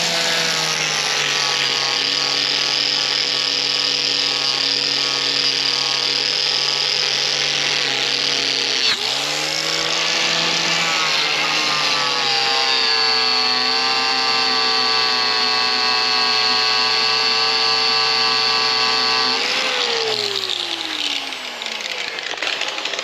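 Angle grinder working over metal on an ERF EC truck under restoration, a loud steady high-pitched whine with stacked harmonics that dips in pitch briefly midway, then winds down at the end; no talking.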